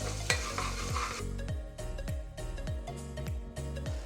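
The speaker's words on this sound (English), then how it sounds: "Then I will add chopped onions in it. We'll saute onions." Chopped onions sautéing in a pressure cooker, a loud continuous sizzle punctuated by a steady run of scraping, clanking stirs of a metal spoon against the cooker, close up and without speech.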